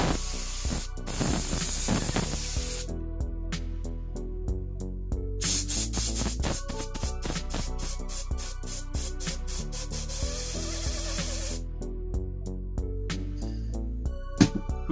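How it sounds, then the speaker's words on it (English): Compressed air can spraying dust out of a PS4 Slim cooling fan, a loud continuous hiss with short bursts and pauses, while the spinning fan clicks and whirs in a rapid, stuttering rhythm. "if you do have your compressed air,"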